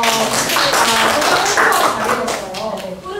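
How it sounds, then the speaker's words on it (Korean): Children in a classroom applauding during an elementary school reading debate event, a steady, dense patter of claps lasting several seconds, loud and close with voices mixed in. "박수 줄까요?"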